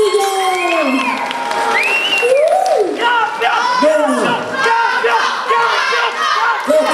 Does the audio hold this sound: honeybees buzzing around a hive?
no